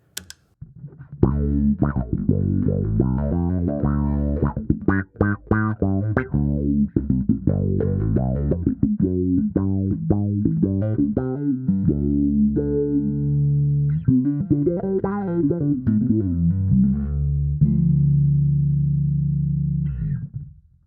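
Electric guitar notes run through an envelope filter, each pluck sweeping with a wah-like quack, played in a loose riff up close.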